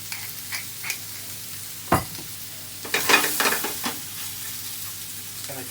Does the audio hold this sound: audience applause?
no